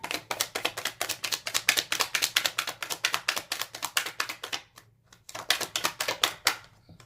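Tarot cards shuffled by hand in a dense run of crisp, rapid riffling taps that pause briefly near the end and then resume, close and clear with no talking.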